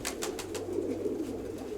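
Pigeons cooing softly in a loft, a low steady murmur of several birds at close range with no talk over it.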